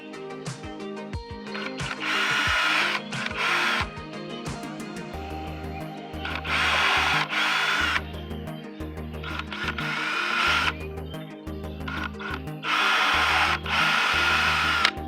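A power drill with an extended 1/8 inch bit pre-drills diagonal holes through 1.5 inch pipe, running in loud, close bursts of whining with short pauses between them.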